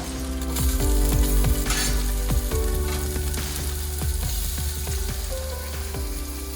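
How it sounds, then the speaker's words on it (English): Onions and garlic hit hot olive oil in a pan with other vegetables, a loud close sizzle with a burst of crackling at the start and repeated spoon stirs and scrapes throughout. "Onions in first, then we've got the garlic."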